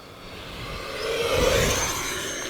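An FMS F-16C 70mm EDF RC jet at about half throttle makes a faint, smooth whooshing pass, swelling and then easing as it flies by.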